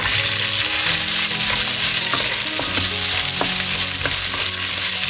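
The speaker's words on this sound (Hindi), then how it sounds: "अनियंस को हम 4 to 5 मिनट्स तक सॉटे करेंगे ऑन हाई फ्लेम।" Onions sautéing over a high flame for a tawa biryani, a loud continuous sizzle close up with scattered scraping and stirring knocks of a utensil against the pan, no voices.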